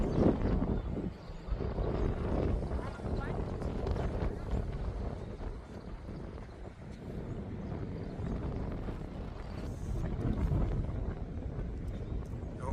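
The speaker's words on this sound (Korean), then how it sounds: "오늘 바람이 좀 많이 붑니다" Strong gusts buffet the microphone at an observation deck on Ulleungdo island, a continuous roaring rumble that swells and eases in waves and nearly buries the occasional voice.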